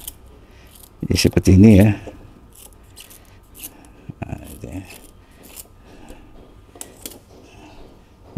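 Scissors cutting a tough banana bunch stalk into fine pieces, a burst of crunchy snipping close up followed by softer sporadic snips and rustles, with a brief spoken comment in between.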